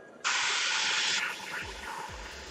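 An airbrush sprays khaki paint in a close, bright hissing burst lasting about a second, then eases to a softer, lingering hiss over faint low background thumps.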